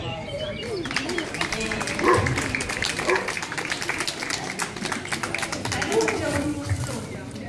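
Steady applause from an audience at a rescue dog event, dense clapping continuing throughout at an even level, with a few voices mixed in.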